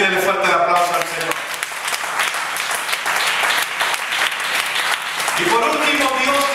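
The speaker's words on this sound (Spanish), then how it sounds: "Pídele fuerte el aplauso al Señor" Church congregation applauding during a Spanish-language sermon, a dense steady wash of many hands clapping throughout, with voices shouting and talking over it at the start and end.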